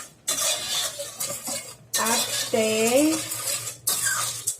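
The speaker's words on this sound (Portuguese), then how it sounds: "Aí você dá uma mexida. Tem que ficar mexendo um pouco." Spoon scraping and stirring sugar, water and popcorn in a pot, with three long bursts of grating stirs separated by short pauses, up close and loud, with brief speech in the middle.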